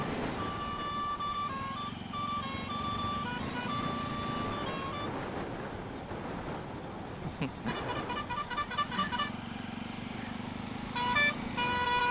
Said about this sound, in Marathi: मागचा हॉर्न बघा कसला.